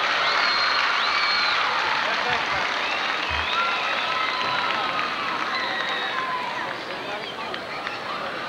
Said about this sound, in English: please give all of them a nice round of applause